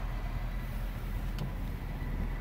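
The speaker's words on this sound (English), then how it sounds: "there's another truck coming in" A truck arrives on a road in the rain, a low steady engine rumble heard from inside a waiting vehicle, moderately distant and continuous with no talk.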